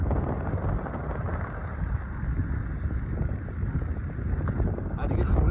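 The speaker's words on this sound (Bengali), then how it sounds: "আর প্রচুর হাওয়া দিচ্ছে আজকে" Strong wind buffets the microphone on a wide beach at Chandipur, a dense, continuous low roar that swells slightly toward the end, with a voice talking faintly under it.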